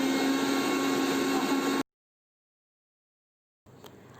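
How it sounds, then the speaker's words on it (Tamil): A loud, steady electric grinding whir of a kitchen mixer grinder grinding coconut and fennel seeds runs for a couple of seconds, cuts to silence, then a quieter mechanical drone resumes. "பெருஞ்சீரகம் சேர்த்து மிக்சியில் மைய அரைச்சிடலாம்."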